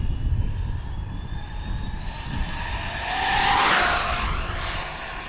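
Team Corally Python 6s RC car on GRP tires running at full throttle, a loud high-pitched electric motor whine that swells sharply as it passes close near the middle, then eases off, with no voices.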